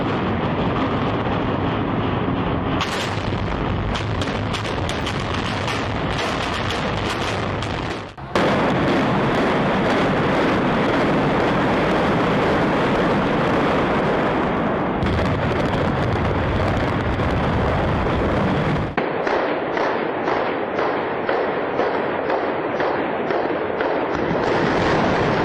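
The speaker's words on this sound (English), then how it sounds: "a series of preliminary explosions is normally needed in controlled demolitions to weaken the structure before the actual collapse can be induced" Preliminary explosive charges go off during a controlled building demolition, heard as a loud, continuous barrage of crackling blasts and rumbling bursts that shift in intensity over about twenty-five seconds, with no voices.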